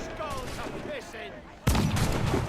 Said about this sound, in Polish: Postrzelajmy sobie trochę z folgierzu.